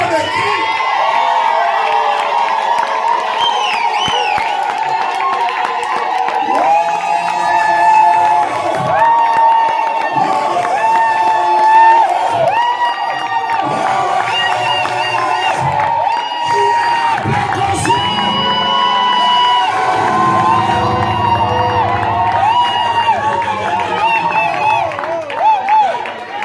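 A church congregation at a lively service shouts, whoops and cheers continuously and loudly, a dense crowd roar with scattered claps and raised voices throughout.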